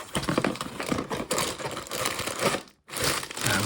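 Plastic bags of Lego pieces from a Lego Speed Champions Dodge Challenger SRT Hellcat set crinkle and rustle up close in busy, irregular bursts, with a brief pause near the end before the crackling resumes.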